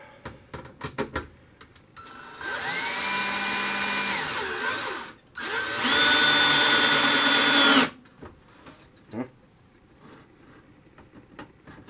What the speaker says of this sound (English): so drilled the first corner hole up in that corner there.